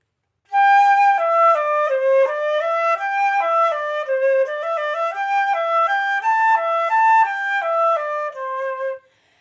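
Solo flute with the head joint pulled out, playing a flowing melody of clear sustained notes, close and bright, starting after a short pause and ending cleanly.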